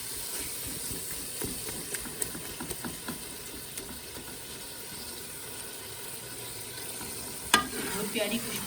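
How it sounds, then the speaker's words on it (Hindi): Minced meat and peas stir-fried in a pan give off a steady sizzle, with a spoon scraping and stirring through it in irregular strokes; there is no talking. "बस इसकी हम 2 से 4 मिनट तक अब कीमे की भुनाई कर लेंगे।"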